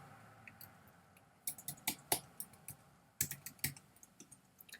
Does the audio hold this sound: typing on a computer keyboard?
yes